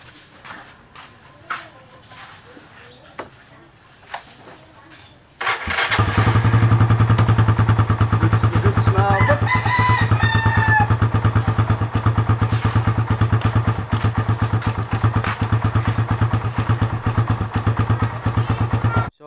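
Suzuki Raider 150 carbureted motorcycle engine, freshly given an oil change, bursts into loud, steady running after a few quiet seconds of light knocks and runs continuously up close, with brief revving partway through.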